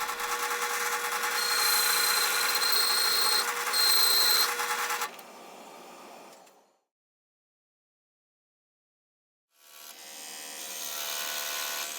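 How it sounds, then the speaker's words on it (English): A router table fitted with a straight bit trims the edge of a 3/4 inch MDF template in a loud, steady high whine that cuts off and winds down into silence, then the motor spins up again. "I'm using a straight bit in my old router table to clean up the edges of the template."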